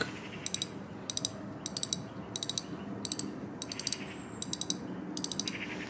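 Daiwa Certate spinning reel drag giving out a run of rapid metallic clicking bursts, about eight short evenly spaced ratchet buzzes, close and crisp over a quiet background.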